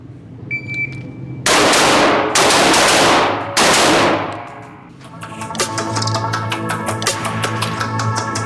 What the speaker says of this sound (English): I want these first two shots to come faster